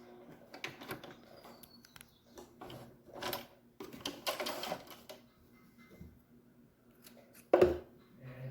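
A sewing machine runs a reverse stitch in short irregular bursts of mechanical clatter, with pauses and a sharper click near the end, fairly quiet and with no talking.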